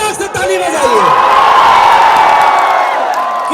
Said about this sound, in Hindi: एक जोरदार हल्ला से ताली बजाइए